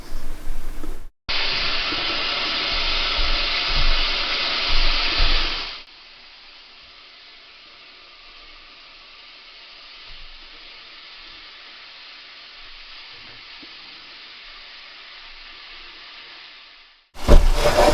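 Beef and onion sizzling in a hot pan, a loud steady frying hiss for several seconds that then drops to a quieter, continuous sizzle, with a brief cut of silence near the start and a louder burst at the end.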